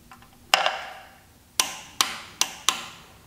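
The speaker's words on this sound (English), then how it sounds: "grab your swivel, your extension, and your torque wrench and start torquing everything down" A torque wrench clicks as oil pump bolts on a Chrysler 3.2/3.6 engine are tightened, giving five sharp metallic clicks, one early and then four in quick succession, close and clear.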